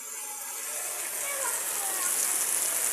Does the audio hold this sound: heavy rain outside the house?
yes